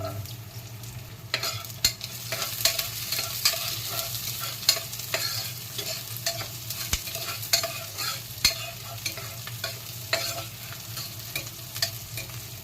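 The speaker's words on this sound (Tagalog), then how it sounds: "Yan, nagisin natin ang bawang." Onion and garlic sizzle steadily in a hot pan while a utensil stirs and scrapes, with irregular clinks over the frying hiss, close up and no one speaking.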